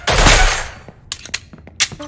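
A loud burst of gunfire aimed at headshots in Deceive Inc., a heavy opening blast followed by a few sharper, scattered shots and clicks.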